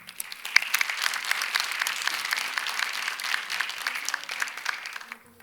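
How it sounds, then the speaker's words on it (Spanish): An audience at an event on Mexico's first artificial intelligence law claps to welcome speaker Eduardo Papini, a fairly quiet but even patter of many hands lasting a few seconds. "Con este aplauso recibimos a Eduardo Papini."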